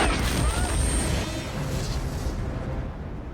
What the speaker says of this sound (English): That's an insane explosion